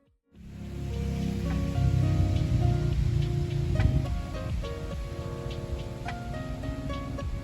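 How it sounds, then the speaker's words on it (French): Rain falls steadily in Brittany, a dense hiss of drops on surfaces that starts abruptly and continues close and even throughout, with no voices over it. "Là, il pleut."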